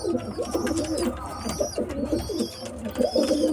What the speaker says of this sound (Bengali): কি মোটা পায়রাটা উফ কি মোটা এই দেখো চামড়া দেখো এই দেখো পায়রাটা